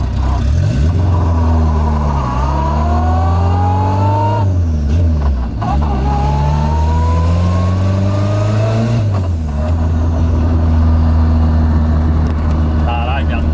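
A turbocharged VW Gol engine revs hard while driving, pitch climbing through repeated gear pulls with brief dips between shifts. The engine stays loud and close, with a voice talking underneath.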